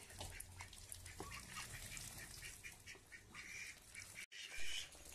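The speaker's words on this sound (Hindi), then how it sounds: "ये बड़ा वाला बत्तख जो है ना जंगली," Large wild desi duck, quacking and honking close by in an outdoor setting, fairly faint and intermittent over a low background hum, with a brief dropout and a louder call near the end.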